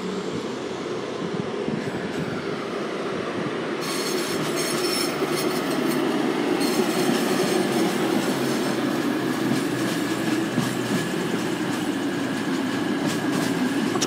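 Class 222 passenger train 222101 rumbles steadily past at close range as it departs platform 6 at Derby station, with clattering wheels and a faint metallic squeal, no voices.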